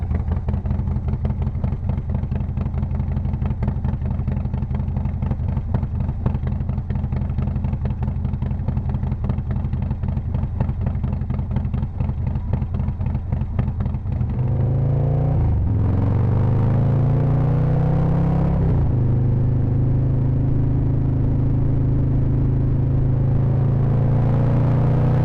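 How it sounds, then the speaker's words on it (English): A modern Harley-Davidson motorcycle rumbles close by at a steady, throbbing idle, then revs up with rising, deep pulses before settling back to a heavy lower drone. "This bike just sounds so good."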